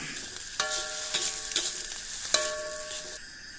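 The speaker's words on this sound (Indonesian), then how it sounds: "Lalu kita aduk sampai merata." Kwetiau noodles with soy sauce stir-fried in a pan sizzle steadily, with repeated ringing scrapes and clanks of a metal spatula against the pan at irregular intervals.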